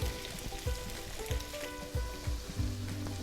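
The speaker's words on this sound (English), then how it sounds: "And then I'm just going to add my shrimp." Raw shrimp hit a pan of garlic over medium-low heat, giving a soft, steady sizzle and fry crackle with a few light stirring knocks, fairly quiet and with no voices.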